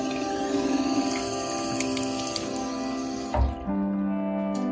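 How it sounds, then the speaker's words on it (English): Water runs steadily from a sink tap in an old house, a continuous close hiss and splash that briefly shifts near the end as the flow is adjusted. "One last sip of good tap water."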